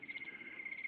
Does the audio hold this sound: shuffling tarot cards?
no